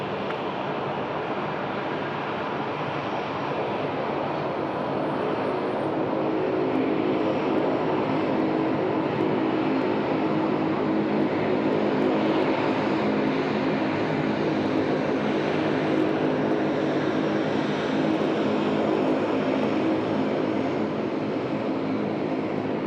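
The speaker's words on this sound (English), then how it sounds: "Here we go with our Etihad friends rolling runway 34 left for departure" An Etihad airliner rolling for takeoff on runway 34 left at Sydney Airport at night, a steady, loud, broad jet roar that holds for the whole span with a slight swell midway and no voices.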